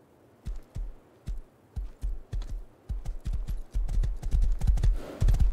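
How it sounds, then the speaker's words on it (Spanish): Horse hooves clip-clop in the survival video game Rust, a steady run of sharp hoofbeats that starts spaced and quickens into a denser, louder trot with no talking over it. "Dios, es un caballo."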